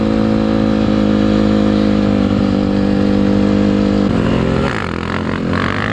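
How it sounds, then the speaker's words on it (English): A 230 dirt bike engine revs hard and steady during a wheelie on a construction site, loud and close, its pitch shifting near the end as the rider changes throttle. "He's getting good on that 230. And that's not an easy bike to wheelie either."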